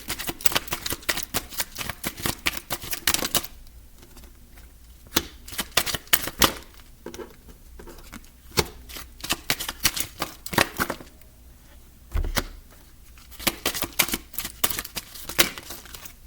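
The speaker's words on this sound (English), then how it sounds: "I tried to separate the cards so I can kind of put them in the right spots" Tarot cards are shuffled and laid out on a table in bursts of quick, crisp riffling and slapping clicks, close by, with short pauses between rounds.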